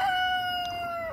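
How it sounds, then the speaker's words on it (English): A single sustained, tonal chicken call from a farmyard flock, loud and close, holding steady for about a second with no talking over it. "Look at the chickens."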